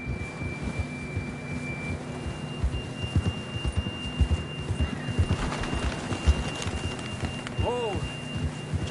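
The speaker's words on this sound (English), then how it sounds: "John was riding that horse when we left Blackwater." Horse hooves clip-clopping in a PS4 video game, with a steady, even stream of soft hoofbeats at a riding pace under a low game soundtrack and a brief chirpy tone near the end.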